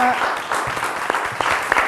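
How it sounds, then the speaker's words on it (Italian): Studio audience applause on a regional Italian television show, a soft steady patter of many hands with a few louder claps near the end. "un applauso a Rivignano"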